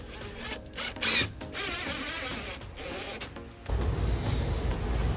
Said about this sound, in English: Take one of the camo screws and just drive it in slowly.